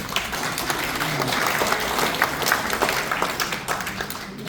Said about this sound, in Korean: 정부영 본부장님 박수로 맞이해 주십시오